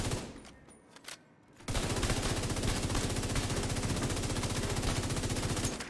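FAMAS assault rifle in The Division 2 firing a long sustained automatic burst of loud, rapid gunshots, preceded by a few brief handling clicks.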